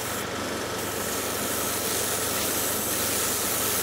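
An airbrush sprays thinned Tamiya paint over masked surfaces of a garage kit anime figure, making a continuous close, soft hiss with no talking.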